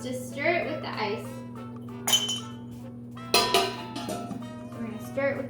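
Ice clinks against glass as a cocktail is stirred, a few bright clinks and taps scattered through the stretch, close and fairly loud, with a person talking at times and a steady low hum underneath.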